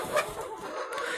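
Native country chicken hens, heavy birds around 1.5 kg, clucking at close range in a short burst of a few soft calls with one louder cluck near the start.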